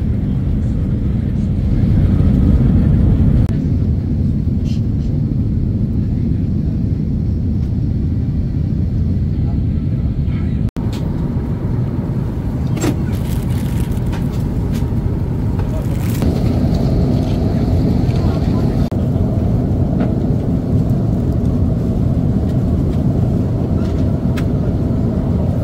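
Steady, loud roar of a Saudi airline passenger jet cabin in flight, a dense low drone with a brief dip and faint clicks and rustles, as the plane prepares for landing.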